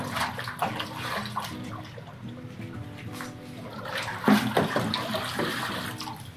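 Water splashes and sloshes steadily as organic material is rinsed and brushed from a bucket during a cleaning and sanitizing routine, close and continuous with no one talking.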